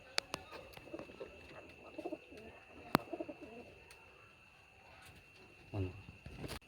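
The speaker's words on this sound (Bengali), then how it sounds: "ধাড়ি পায়রা আমার ঘরে" Scattered soft clicks and taps in a quiet room, then a low, throaty pigeon coo close by near the end.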